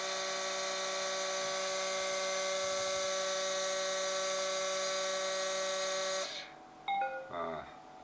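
Tool post grinder motor spun up to about 10,000 RPM, a loud steady high-pitched tonal whine with strong harmonics that holds for several seconds, then stops abruptly, followed by a few faint clicks and short tones.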